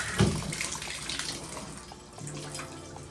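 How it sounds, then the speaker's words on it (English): Hotel bathroom shower running with strong water pressure in a room with a bathtub, a continuous close hiss of spraying water with a brief splash at the start, no talk. "and the shower has plenty of pressure."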